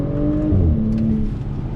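A 2020 Audi S4 sport sedan pulls through a roundabout, its engine droning steadily and rising in pitch as it accelerates, heard loud from inside the car with no talking.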